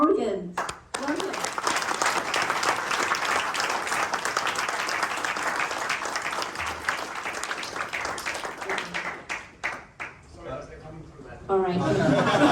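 An audience at a TeamViewer event in Perth applauds steadily for about ten seconds with dense clapping and a few laughs, then the sound thins out before a voice begins speaking at the end.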